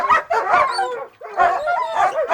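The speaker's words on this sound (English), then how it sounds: "So what you are seeing are two black German Shepherds and a sable German Shepherd puppy." Six-month-old German Shepherd puppies, two black and one sable, yip, bark and whimper in close, loud, overlapping bursts with a brief pause midway.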